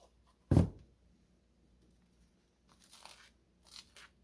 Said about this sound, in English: Love that crunchy sound as you're spreading the butter.